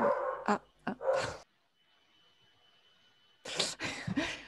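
A dog barks in several sharp, loud bursts close by, with a quiet pause between two clusters of barks in an indoor room.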